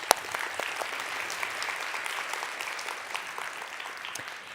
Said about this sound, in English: So if we could just do one more round of applause for the sponsors